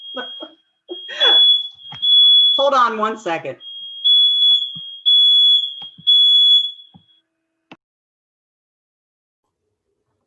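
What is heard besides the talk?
fire alarm going off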